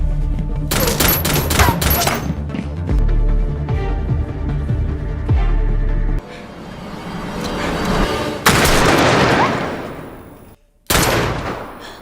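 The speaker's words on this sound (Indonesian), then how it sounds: "dalam aksi saling tembak itu, si Patua harus meregang nyawa di tangan Jonah" Rapid shotgun and gun blasts from a film shootout ring out loud and dense in bursts, with booming, chopping reports, a short pause near the end, then another sharp burst.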